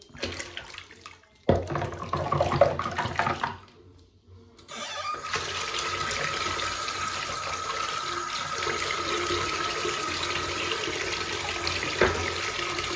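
Tap water running steadily into a wash basin during a straight razor shave, a continuous mid-level rush after a brief pause and some handling sounds at the start.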